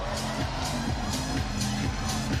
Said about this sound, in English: Until that spike from Gong Xiangyu to send the crowd crazy and give China the lead.